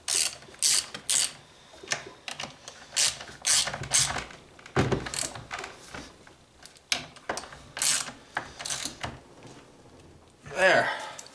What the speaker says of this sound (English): Now I'm just going to tighten down these bolts on the side.